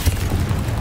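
Confringo fire spell blasts in the Hogwarts Legacy video game, a short booming burst with a deep low thud, loud and close, with a rumbling tail.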